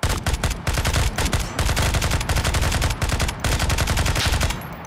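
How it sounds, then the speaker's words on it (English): Gunfight in the tactical shooter game Ground Branch during a pistol-only challenge in a compound: rapid, loud, close shots fired in quick succession for nearly five seconds with almost no gaps. "That was a pretty good reaction gunfight, though."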